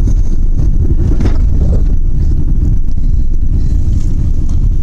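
Traffic rumbles past at a roadside bus stop, its low drone heavily buffeted by loud wind noise against the microphone, with no clear pauses between the passing cars.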